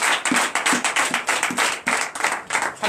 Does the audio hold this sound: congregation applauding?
yes